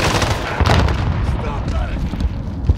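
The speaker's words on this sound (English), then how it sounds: "Precision airstrike." Precision airstrike explosions in the Modern Warfare video game, loud rumbling booms and blasts rolling together in a continuous, heavy low roar.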